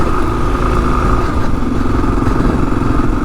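A 2022 Kawasaki KLR 650 dual sport motorcycle rides over sandy back trails, its single-cylinder engine droning steadily and close, with a continuous rumble and faint rattling.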